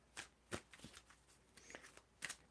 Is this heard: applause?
no